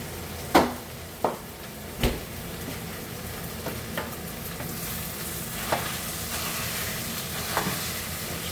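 Pastaliya being stirred in a pot, with a handful of distinct scraping clinks spaced out over a low, steady sizzle and background hiss.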